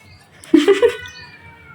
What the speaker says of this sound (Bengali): এই যে বিড়ালের মতো কান্না শুরু করছে না